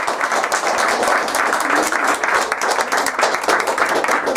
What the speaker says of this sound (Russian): Алексей Перепрыгин, еще раз аплодисменты.